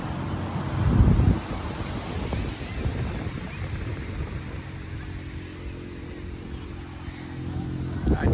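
Waves roll in at Arnala beach, heard as a broad surf wash under steady wind buffeting the microphone, with a louder gust-and-wave surge near the start and a low background hum.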